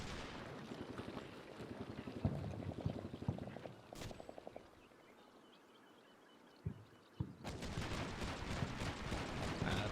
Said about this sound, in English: A bit of Bradley fire through the gap in the buildings.